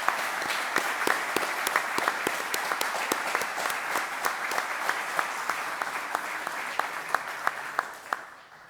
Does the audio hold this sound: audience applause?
yes